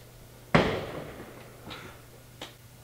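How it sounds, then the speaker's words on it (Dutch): Fireworks going off outdoors: one loud sharp bang followed by a decaying rumble, then two fainter, more distant pops spaced about a second apart over a low steady hum. "Maar dat was dus net vuurwerk."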